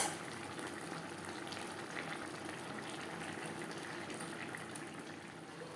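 A bottle gourd and prawn curry, Bengali lau chingri, cooks in a pan on a gas flame, giving a steady, even bubbling sizzle that stays fairly quiet and unbroken throughout, with no voices.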